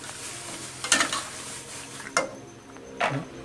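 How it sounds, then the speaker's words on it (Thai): Chicken red curry stir-frying with fresh coconut milk in a pan, a low steady sizzle broken by three brief louder scrapes or stirs near the mic, no talking. "เราผัดไปเรื่อยๆครับ"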